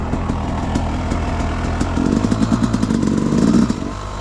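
An enduro dirt bike engine runs steadily on a trail, a rough rattling drone that swells louder with revving bursts toward the end, with no talking.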